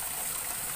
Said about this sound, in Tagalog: yung may tumatagas sa tubig